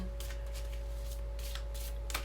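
A large deck of oracle cards is shuffled by hand in repeated soft riffling bursts over a steady low hum, close and fairly quiet, with no talking.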